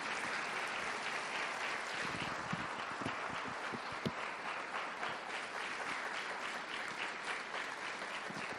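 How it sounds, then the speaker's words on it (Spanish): A church congregation applauds in praise during a Spanish-language service, a dense, steady wash of many hands clapping throughout, fairly close and continuous. "Ahora denle un aplauso al Señor Dios Todopoderoso."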